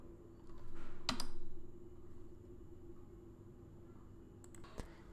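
A few sharp keyboard keystrokes clatter nearby as a pyinstaller command is typed on a computer keyboard, with sparse clicks around the one-second mark and again near the end over a quiet room hiss.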